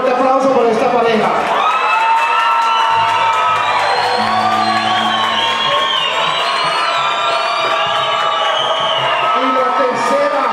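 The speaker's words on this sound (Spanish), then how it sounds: "en un fuerte aplauso por esta pareja." Crowd at a Halloween costume party cheering, whooping and shouting loudly for a couple called up as prize winners, a dense steady roar of voices lasting the whole time, with an announcer's voice at the start.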